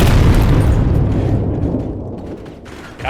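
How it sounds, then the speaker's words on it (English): A bomb detonates in the video game Bodycam: one loud, close boom with a heavy low rumble that slowly decays over about three seconds. "I see they haven't changed the bomb sound effect yet."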